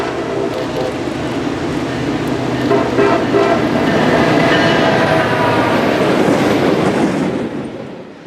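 CSX freight train Q453 led by two SD40-3 locomotives rolls past close and loud, a heavy steady rumble with wheel clatter that swells and then fades at the end.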